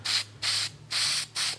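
A rust treatment sprayed in short pressurized bursts onto rusty spots on a gutter: four hissing sprays, each about a third of a second long, close to the mic, separated by brief pauses.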